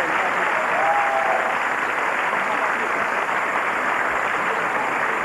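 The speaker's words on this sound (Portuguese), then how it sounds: "Um aplauso forte para a Patrícia." A studio audience at a 1996 Brazilian late-night talk show breaks into loud, dense applause that holds at a steady level throughout, with a brief whistle or tone near the start cutting through the clapping.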